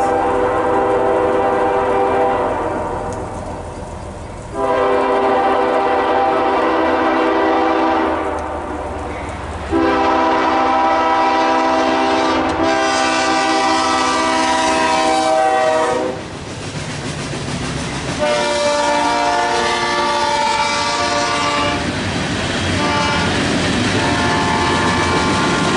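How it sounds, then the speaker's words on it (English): A southbound CSX train passes in the rain, sounding loud, close horn blasts in three long sustained bursts over a steady rumble of rolling cars. "here comes another train"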